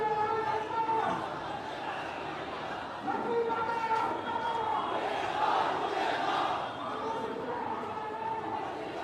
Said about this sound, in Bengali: ইসলামী ছাত্র শিবির জিন্দাবাদ জিন্দাবাদ এই নামে কিন্তু তারা স্লোগান দিচ্ছেন